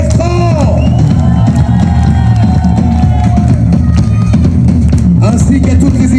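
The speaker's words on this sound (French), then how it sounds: "je voudrais profiter de l'occasion pour vous demander un immense tonnerre d'applaudissements aux ingénieurs et régisseurs son Nico et Bertrand" A concert crowd at the Pairi Daiza park, with a band on stage, roars and whoops in a loud, continuous wave of cheering for the sound engineers, with voices rising above the dense noise.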